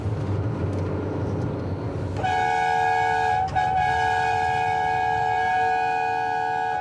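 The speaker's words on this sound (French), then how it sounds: "pourquoi il klaxonne, il n'y a pas de voiture?" A train horn blares in a long, loud sustained chord with a brief dip in the middle, starting a couple of seconds in after a stretch of rumbling background noise.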